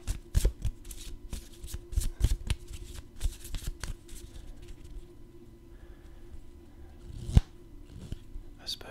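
Magic: The Gathering cards are shuffled and handled close up, giving crisp riffling and flicking bursts with soft sliding and tapping in between, quiet and intimate.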